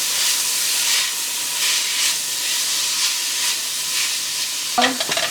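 Garlic and ginger saute in a pan with a steady, loud sizzle and hiss, while a utensil stirs and scrapes through it, and a brief clatter comes near the end.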